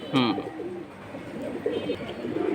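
Light-coloured silver pigeons give soft, low coos close by, forming a brief murmuring run of calls.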